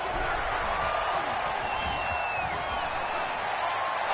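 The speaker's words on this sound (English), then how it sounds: "You can already start to hear this crowd." A football stadium crowd at a Colts game roars steadily through a third-and-goal play, a dense continuous wash of cheering and shouting with occasional whoops and whistles rising above it.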